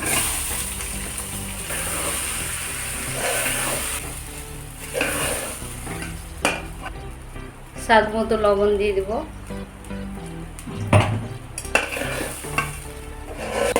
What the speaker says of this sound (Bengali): এবার আমি কাজু আর কিশমিশগুলোকে দিয়ে দেবো হালকা করে একটু ভেজে নেব এবার গোবিন্দভোগ চালটা দিয়ে দেবো